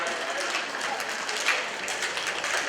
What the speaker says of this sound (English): Everyone that's clapping is too eager to be in my show.